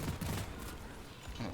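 Rapid bursts of gunfire and popping explosions from Deep Rock Galactic, a co-op mining shooter, as dwarves fire at alien bugs during a deep dive; dense, loud and continuous across the short stretch.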